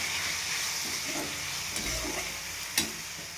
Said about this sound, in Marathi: छान परतून घेऊत आपण.